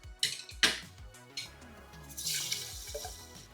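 Glass jars of broccoli seeds soaking in water are swirled and shaken, giving close sloshing and splashing with a couple of sharp clinks early on, then a steadier swishing wash of liquid, no voices.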